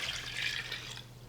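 Water pours steadily into a pot of chicken tortilla soup, a soft continuous splashing with a faint low hum beneath.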